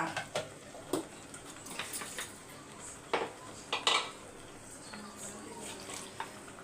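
Curry being stirred in a cooking pot, with scattered clinks and scrapes of a utensil against the metal, irregular and fairly close, under faint background noise and a voice at times.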